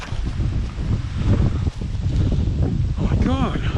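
Wind gusting against a microphone beside a river, a continuous low buffeting rumble with rustling, and a brief warbling tone near the end.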